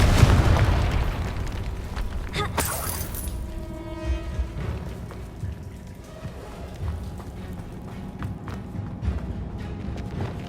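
A Confringo fire spell blast in Hogwarts Legacy, a loud explosive burst with a crackling boom at the start that fades into a lingering rumble and small scattered game sounds.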